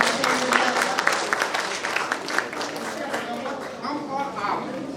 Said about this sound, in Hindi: AP सिंह सर, एक बार उनके लिए तालियां बजाइए